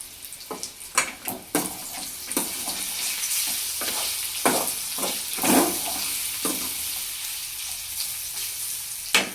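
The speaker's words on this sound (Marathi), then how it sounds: "आता हे पूर्ण आपल्याला फ्राय करून घ्यायची." Soybean chunks frying in a pan, a steady close sizzle broken by repeated sharp scraping clatters of a spoon stirring against the metal, with no voices.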